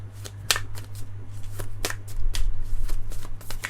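Tarot cards being shuffled by hand, a run of crisp riffling and flicking bursts with a few sharper snaps, close and fairly steady over a low background hum.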